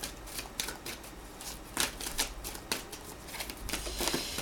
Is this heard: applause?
no